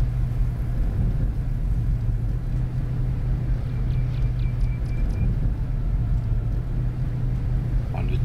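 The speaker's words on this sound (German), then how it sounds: "hier fahren wenigstens immer wieder mal Autos" Cars driving past in the video game Lumberjack's Dynasty, a steady low engine rumble that holds throughout, with faint higher tones drifting above it.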